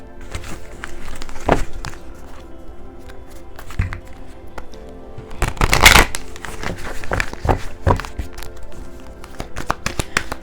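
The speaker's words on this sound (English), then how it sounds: "Go ahead and shuffle these cards." Tarot cards are shuffled in quick riffling bursts with soft taps and thumps between them, close by, with no talking.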